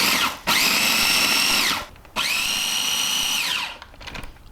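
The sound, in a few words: chopping scotch bonnet chilies in a food chopper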